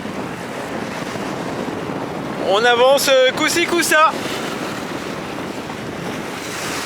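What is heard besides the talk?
ocean waves and wind on sailboat at sea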